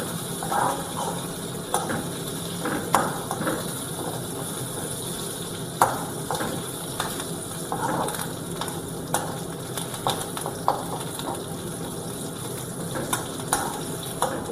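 Red chillies fry in a pan for a chilli chutney, giving a steady, soft sizzle and crackle throughout, with occasional light scraping or stirring taps and no talking.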